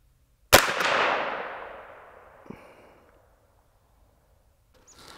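A single sharp shot from a Savage A17 rifle firing at a Tic Tac target at 100 yards, a loud crack with a long echoing decay, followed by a faint distant impact about two seconds later.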